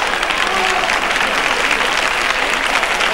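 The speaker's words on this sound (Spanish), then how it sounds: "¡Fuerte el aplauso para..." A studio audience at a 1981 Spanish TVE quiz show bursts into loud, dense applause, a continuous roar of many hands clapping close to the microphone with no break.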